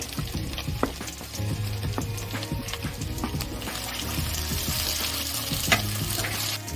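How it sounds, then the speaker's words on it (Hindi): Green peas stirred and fried in a pan for Indori poha, with a steady sizzle and repeated scraping of a spatula against the pan, close and busy throughout. "अब मटर ऐड करेंगे, मटर के दाने ऐड कर दिए हमने।"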